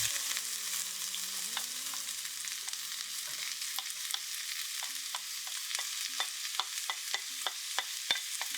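Hot olive oil in a cast iron pan gives a constant crackling sizzle, with light scraping and stirring ticks growing busier toward the end.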